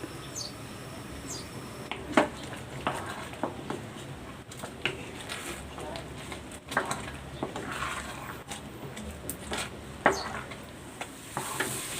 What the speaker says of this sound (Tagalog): hahaluin natin ito hanggang sa maluto yung malagkit